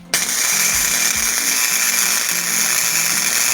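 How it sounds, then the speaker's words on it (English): Flux core welder running on a Jeep part: a steady, loud, continuous crackling buzz that starts abruptly and holds throughout, with no voices. "now we are gonna try and weld this with the old flux core welder"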